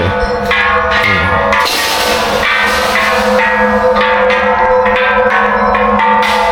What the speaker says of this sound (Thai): เสียงดังกลางวันนะเหมือนระฆังเลย